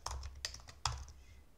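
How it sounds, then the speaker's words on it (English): A computer keyboard being typed on to enter contact information, a few quick close keystrokes in small bursts over a quiet background. "So we'll just type in some information right here."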